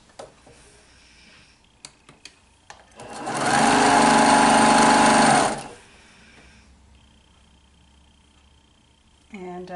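A sewing machine stitches quilt pieces at a low stitch length in one loud, steady burst of about two and a half seconds, framed by quiet handling clicks and faint voices before and after.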